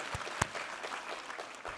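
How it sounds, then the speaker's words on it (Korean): Church congregation claps during a Sunday worship service, a short, fairly soft burst of scattered hand claps with one sharper clap standing out, heard from a distance in a reverberant hall. "우리 하나님께 감사와 영광의 박수 올려드리겠습니다"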